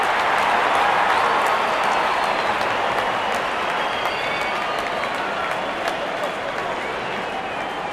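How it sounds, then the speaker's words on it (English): Crowd noise from a cricket video game rolls on as a continuous, steady roar of cheering and applause, fairly loud and unbroken throughout, with no distinct voices standing out. "The crowd is enjoying every bit of this action."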